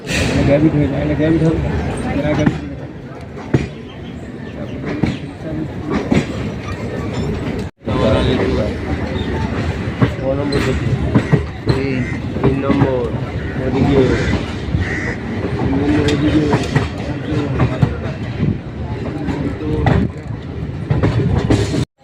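Local train riding from Naihati to Sealdah, its steady rumble and rattle running continuously for the whole stretch, with voices talking over the carriage noise.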